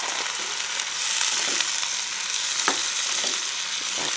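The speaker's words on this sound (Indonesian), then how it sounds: "Setelah itu kita masukkan sotongnya ya guys ya." Squid sizzles steadily in a hot pan, a dense close hiss broken by a few soft stirring scrapes.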